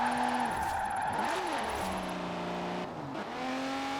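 A car engine in the racing game Forza Horizon 4, heard from outside during a drift build, droning steadily with rising and falling pitch as the revs shift, moderately loud and continuous.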